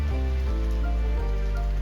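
Rain falls steadily at an ocean beach, a dense continuous patter with deep rumbling wash underneath, close and loud with no voices.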